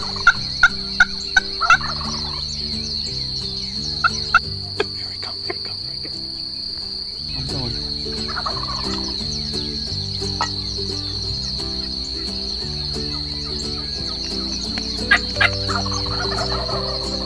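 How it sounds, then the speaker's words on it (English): Wild turkeys gobble repeatedly nearby and farther off during a turkey hunt, loud bursts over a constant high chorus of chirping insects. "The turkeys are going crazy all around us"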